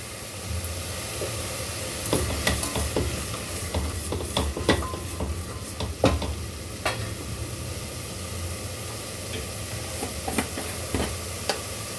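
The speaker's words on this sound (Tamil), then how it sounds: "இது கொஞ்சம் நேரம் ஒரு டூ மினிட்ஸ் நல்லா வதங்கட்டும் இப்போது வதங்கிட்டு இருக்கு" Onions and vegetables sizzle and hiss steadily in a hot pan, with scattered sharp clinks and scrapes from stirring over the constant frying noise.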